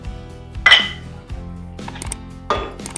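Roasted spice powder is stirred into chicken pickle, with a metal spoon clinking and scraping against the vessel in a few sharp knocks separated by softer scrapes.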